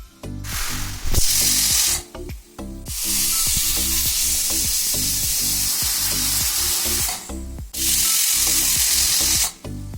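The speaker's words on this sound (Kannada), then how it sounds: "ಮೂರು ವಿಸಿಲ್ ಆಗೋ ಥರ ಇವನ್ನ ಕುದಿಸ್ಕೋತೇನೆ" A pressure cooker on a gas stove boils vegetables for pav bhaji in two glasses of water, releasing three long, loud bursts of hissing steam with short gaps between them.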